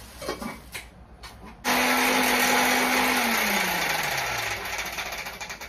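A kitchen mixer grinder starts up suddenly and runs loud and steady for several seconds, its motor pitch sagging toward the end, after a brief stretch of quieter household noise.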